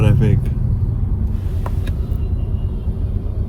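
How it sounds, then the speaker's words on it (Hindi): Dense Mumbai road traffic rumbles steadily with continuous low engine and car noise at close range, a brief higher sound near the start and a couple of faint transient knocks later. "ये ट्रैफिक है बॉम्बे का। मुंबई का ट्रैफिक"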